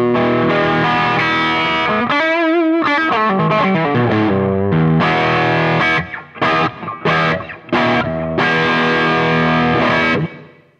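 An electric guitar played through a BGW power amp, distorted and chorus-tinged, with sustained chords, a bending note, then choppy staccato stabs, loud and close with no talking.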